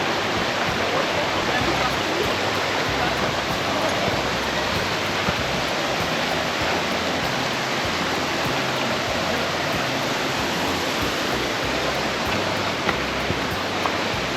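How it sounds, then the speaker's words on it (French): The Roquefort waterfalls in Ariège pour in a steady, dense, full roar that stays loud and unbroken throughout, close and enveloping. "nous voici aux cascades de Roquefort"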